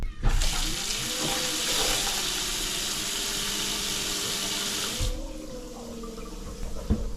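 Faucets on an RV's self-priming fresh water system opened a little to purge air, giving a loud steady hiss of gushing tap water close by that cuts off abruptly near the end, leaving a quieter low hum.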